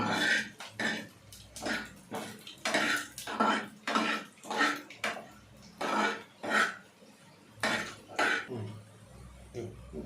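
Ingredients for a nalleru chutney are stirred in a pan over a low flame, giving a rhythmic series of scraping, clinking strokes, about a dozen evenly spaced, close and clear.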